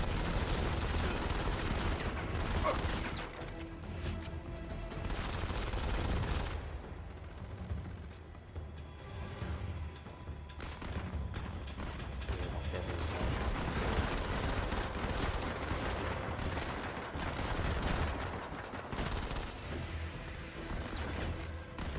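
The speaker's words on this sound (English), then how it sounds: "I can shoot this up, shoot through it" Gunfire in the video game Modern Combat 5, sustained bursts of shooting through destructible objects with crashing debris, dense and continuous throughout with brief lulls.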